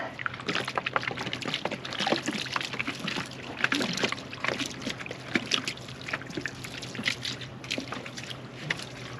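Water pours and splashes over a freshly sawn wooden slab cut from a log, a steady near trickle with irregular splattering bursts throughout.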